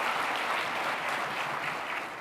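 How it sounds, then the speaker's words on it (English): Steady crowd applause fills a hall during Phoenix's State of the City address as the city manager is honoured, thick and continuous clapping that tapers only slightly toward the end. "Please give him a round of applause."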